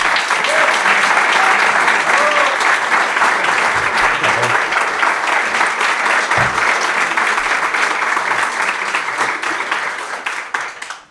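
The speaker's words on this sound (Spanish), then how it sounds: "Os voy a pedir un fortísimo aplauso para el gran invitado de hoy" A studio audience gives loud, sustained applause welcoming the guest, Luis Gutiérrez Rojas, onto a podcast show, dense clapping that holds strong for about ten seconds before tapering off at the end.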